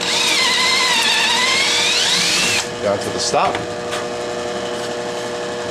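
A power drill whines loudly with a wavering pitch as its bit bores into wood during radio cabinet construction, then stops abruptly, leaving light clicks and handling noises while someone speaks.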